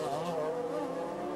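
A race car at speed during an American Le Mans Series race at Trois-Rivieres, a loud, close, continuous engine roar with shifting tones as it passes, no voices.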